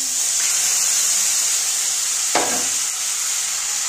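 Spices such as bay leaf and cumin sizzle loudly and steadily in hot oil for chickpea ghugni, a continuous close hiss with a brief stir midway.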